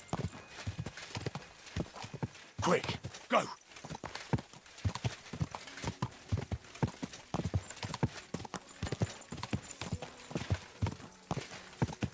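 Horse hooves in Kingdom Come: Deliverance II clop in a fast, steady galloping rhythm with a brief whinny. Someone speaks over the hoofbeats.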